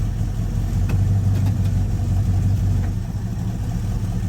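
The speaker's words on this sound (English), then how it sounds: "We just heard the idle go down a little bit, so we know the transmission engaged" A 1972 Ford Ranchero 500 idles with a steady low rumble as its transmission is shifted into drive. The engine note dips slightly partway through, and a few faint clicks rise over the hum.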